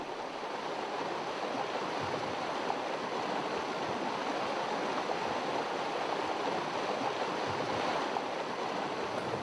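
A river flowing through its meanders, a steady, dense rush of water that stays even and unbroken throughout, close and fairly loud with no voices.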